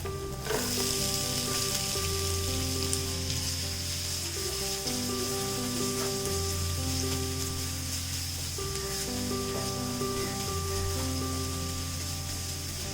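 Sliced onions fry with ginger and garlic in a pan for Kerala-style beef ularthiyathu. An even, close sizzle carries on throughout over a steady tonal music bed, with no one speaking.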